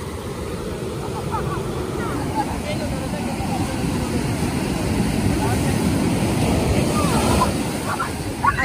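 Strong surf rolls onto a beach in a steady, loud wash of broken water that runs through the whole stretch, with faint voices in the background.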